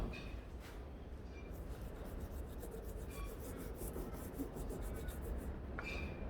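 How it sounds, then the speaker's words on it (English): A coarse file rasps steadily across the bark of a young bonsai tree, a continuous close scraping texture that runs for several seconds without pause. "another thing you can do is get a fairly coarse file"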